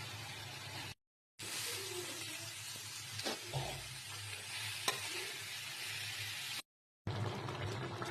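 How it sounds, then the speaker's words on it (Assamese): A pan bubbling and sizzling steadily as jackfruit curry simmers, with a brief clink of a utensil and a couple of short silent gaps. "এয়া উতলি আছে"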